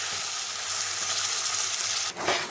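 Ground green peas sizzle in hot spiced oil in a pan, a steady close frying hiss with a brief stirring scrape near the end.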